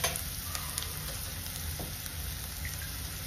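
Onions browning in a pan give off a steady, fairly quiet sizzle and crackle that holds evenly throughout, with a couple of faint clinks partway through and no voices.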